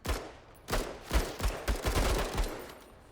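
Rapid bursts of blaster gunfire in the video game MENACE, sharp repeated shots crackling in quick clusters across a few seconds, loud and close with no talk.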